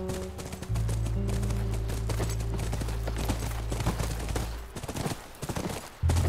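Horse hooves clip-clop in The Last of Us Remastered, in the university chapter, as a steady rhythmic patter layered under a low game drone and scattered sharp bangs.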